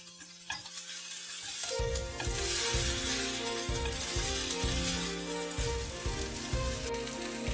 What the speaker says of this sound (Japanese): キクラゲ、豚肉、 生のニラを加えて1分ほど炒めていきます